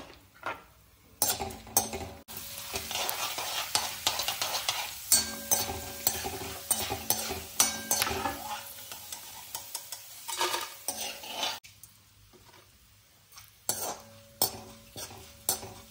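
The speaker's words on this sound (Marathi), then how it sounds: "आपलं जे कढईत तेल गरम आहे त्यात आणखी आपण एक चिवडा तयार करून घेऊ। त्यासाठी आपण बटाट्याचा कीस घेतलेला आहे, तो आपण यात तळून घेऊ।" Grated potato fries in hot oil in a kadhai for chivda, a constant sizzle overlaid by frequent sharp metallic clinks and scrapes of a spoon stirring against the pan, close and without talk.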